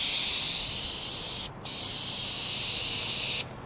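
Car touch-up paint hisses from an aerosol spray can in two long, steady bursts, close and loud, separated by brief pauses where the nozzle is released.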